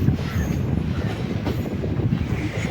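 A passenger train runs on rails between Kollam and Alappuzha, heard from inside as a steady low rumble with rhythmic wheel clatter and faint squeal, no talking.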